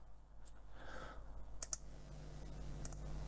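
Rotary encoder wired to a MESA 7i96s board for LinuxCNC, turned by hand and giving a few sharp, close clicks in short bursts over a steady low hum.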